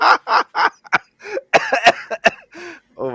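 A person coughs in a string of short, loud bursts with gaps between them, close to the microphone, with a few throat-clearing and breathy sounds mixed in.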